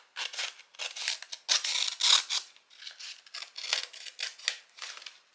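Scissors cut through paper for a journaling envelope, a close, crisp run of rhythmic snips and slices, about a dozen strokes in quick succession with no talking.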